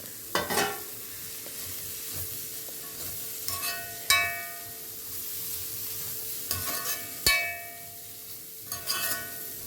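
Curry leaves hit hot oil in a pan while cooking amarapayar upperi, a Kerala stir-fry, giving a steady sizzle broken by several sharp clinks and scrapes of a spoon stirring against the pan.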